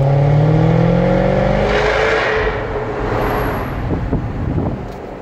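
A Jaguar F-Type R V8 accelerates hard on the road, a loud rising engine howl up close that climbs in pitch, then gives way to rushing road and wind noise.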